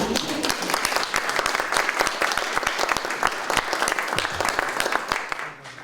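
A crowd claps enthusiastically in steady, dense applause that carries on for several seconds before tapering off at the end.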